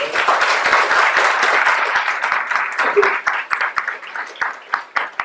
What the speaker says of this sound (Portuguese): Eu gostaria então de pedir uma salva de palmas para a professora Viviane